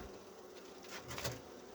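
Honey bees buzz faintly at a wooden hive with a weak colony, a soft continuous droning hum with slight swells, low in level and no talking.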